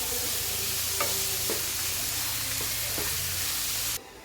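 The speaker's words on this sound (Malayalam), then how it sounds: "ഇനി ഇത് നമുക്ക് വീണ്ടും നന്നായിട്ട് എന്ത് ചെയ്യാം, സോട്ട് ചെയ്തെടുക്കാം." Vegetables with carrots sautéing in a pan for a creamy Alfredo chicken pasta: loud, continuous sizzling with several sharp scrapes and taps of a spoon stirring, close up, cutting off abruptly near the end.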